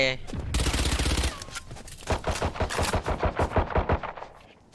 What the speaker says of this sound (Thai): ระวังแล้วปืนกลเลย